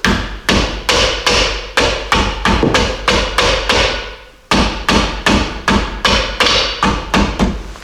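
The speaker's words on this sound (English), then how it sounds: "it's actually a little bit easier for me to hammer this in instead of using a clamp" Steady, loud hammer blows drive a bushing into a vehicle leaf spring, about two strikes per second with a brief pause midway, each a sharp metallic thud close by.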